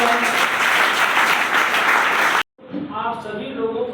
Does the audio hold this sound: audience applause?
yes